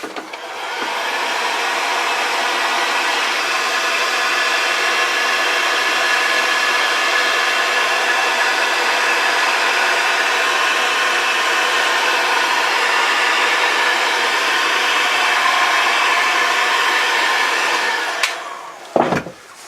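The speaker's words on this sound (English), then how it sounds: "which is why we're using the heat gun" A heat gun blows steadily on a Dodge 2500 headlight wiring harness, a constant close airy roar that runs nearly twenty seconds before cutting off with a short clatter at the end.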